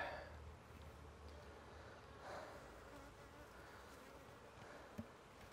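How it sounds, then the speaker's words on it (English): Bees buzzing in a dense, agitated swarm, a steady droning hum with a few louder passes close by, fairly quiet overall. "to say these bees are pissed off is kind of an understatement"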